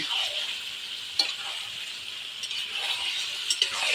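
Green chilies sizzle steadily in hot oil in a pan, a continuous bright frying hiss with a few small clinks and stirring taps scattered through it; no one speaks.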